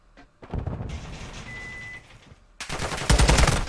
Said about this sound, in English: Some shots going back and forth.